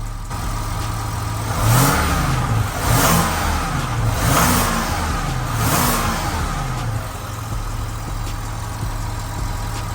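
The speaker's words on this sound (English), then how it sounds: "How about if I add the throttle a bit higher? So I leave you guys in here and I push the throttle." An Audi A6 engine revs up repeatedly, four rising and falling throttle blips over a steady idle, then settles back to a low rumble.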